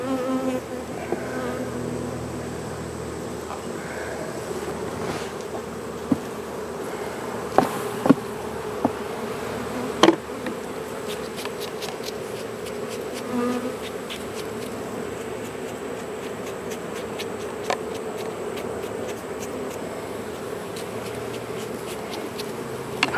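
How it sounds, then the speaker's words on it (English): A steady swarm of honey bees hums continuously around the hive, close and sustained, with occasional faint clicks and taps in the background. "Hard to keep all the bees off."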